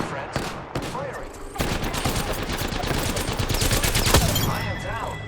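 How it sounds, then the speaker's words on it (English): Video game gunfire erupts in dense automatic bursts, loud and close, building into continuous rapid shots with brief pauses at the start, while a synthetic voice speaks over the shooting. "I'm taking fire, friend. Firing."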